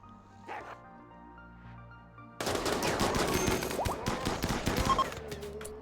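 Turrets firing on raiders in RimWorld, a quiet lull with a few small sounds giving way to a sudden burst of dense, rapid gunfire and impacts that rattles on for several seconds.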